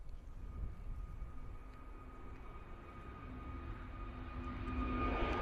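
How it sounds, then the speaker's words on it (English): An EasyJet Airbus A320neo jet passes overhead on departure from an airport, a steady broad engine roar with a droning whine that builds slightly louder toward the end, heard alone without speech. "Heading out to Venice this morning, EasyJet A320 Neo. Here we go, coming right overhead."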